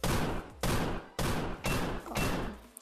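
Rapid bursts of gunfire from several weapons tried in turn at a shooting range in the video game Gun Raiders, five loud, dense volleys separated by brief gaps.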